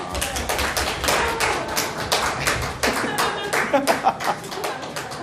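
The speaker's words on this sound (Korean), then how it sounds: "우리 하나님께 영광의 박수 드립니다." A church congregation applauds during a Sunday worship service, with dense, sustained clapping from many hands that fills the room for several seconds.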